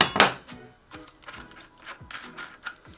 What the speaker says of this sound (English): the next thing you're going to use is actually your AR wrench itself, basically with these nubs inside to actually help remove the castle nut